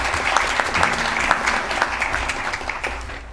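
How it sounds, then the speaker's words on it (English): Audience applause at a board meeting for a visiting Boy Scout, with steady clapping from a modest indoor crowd that is fairly close and fades slightly toward the end. "Let's give him a round of applause."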